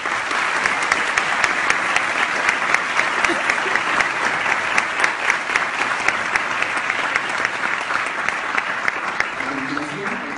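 An audience at an ITAM conference welcomes guests with strong, sustained applause, dense even clapping that holds loud for about ten seconds with faint voices underneath near the end.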